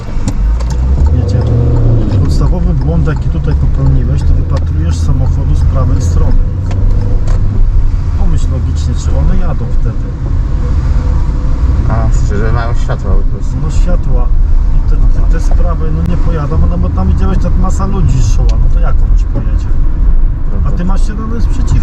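A car pulls through city traffic held in low gears, its engine droning loudly and steadily with occasional revving, while people talk inside the cabin over the rumble.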